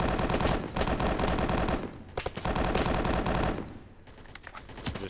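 Rapid automatic gunfire in the video game BRM5, loud and close in sustained bursts, with a short break near the middle and a lighter, sparser stretch of shots at the end.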